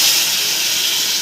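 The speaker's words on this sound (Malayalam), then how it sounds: "തക്കാളിയൊക്കെ ഇട്ട് വഴറ്റിയ ശേഷം നമുക്ക് വെള്ളം ഒഴിക്കും." Water poured into a hot pan of sautéed tomatoes with spices for thari biriyani, giving a loud, steady steam hiss that fills the whole short moment without talk.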